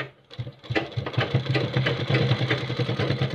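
A sewing machine runs a line of stitching along the edge of a kurta. It makes quick, regular mechanical thumps at close range after a brief pause at the start.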